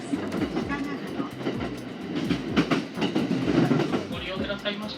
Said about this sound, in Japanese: This is a local service train bound for Toyono, Kurohime, and Naoetsu.